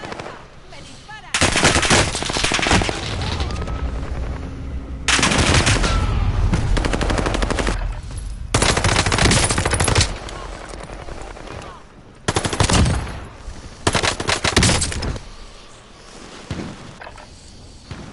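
Heavy gunfire in Call of Duty Warzone, with long bursts of loud automatic fire and bangs coming in several separate waves, dense and close, with brief quieter gaps and game voices in the mix.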